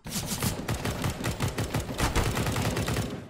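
CS:GO gunfire sounds as rapid, evenly spaced shots in a sustained automatic burst, loud and close, with no talk over it.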